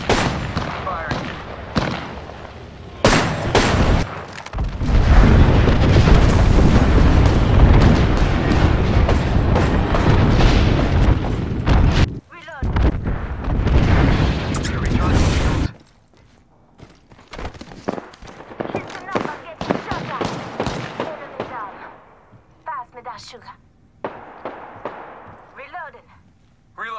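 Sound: grenade and airstrike explosions in video game Apex Legends

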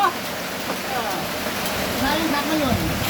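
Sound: rain falling

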